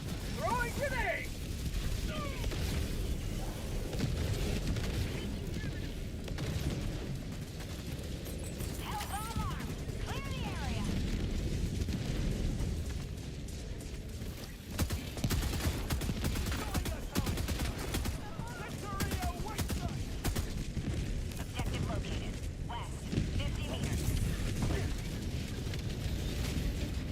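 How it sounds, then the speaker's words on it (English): A grenade explosion in the video game Helldivers 2, buried in a dense, continuous wall of gunfire, machine-gun bursts and blasts that stays loud throughout, with voices talking over the battle. "Throwing grenade!"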